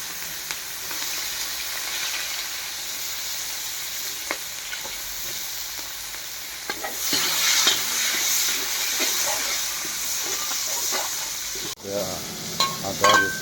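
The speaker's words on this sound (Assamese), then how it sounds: "আদা ৰচুন আৰু জলকীয়া পিঠাটো দি ল'লোঁ। তেলতে ফ্ৰাই কৰি লওঁ আগতে।" A paste of ginger, garlic and chili fries in oil with a continuous sizzle that swells as it is stirred, with scraping clatter and a brief sharp knock near the end.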